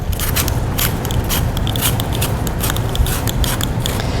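A very sharp peeler shaving the skin off an apple in quick repeated strokes, a close, steady scraping with crisp rhythmic rasps and no talking.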